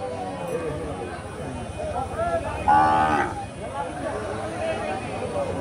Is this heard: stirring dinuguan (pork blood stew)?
no